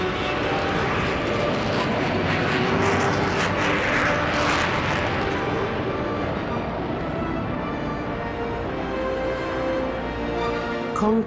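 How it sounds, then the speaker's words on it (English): Concorde takes off at full power with reheat, a loud, continuous jet roar that stays intense throughout and slowly eases toward the end. "the noise when she actually got onto the runway, opened the throttles, full power with reheat"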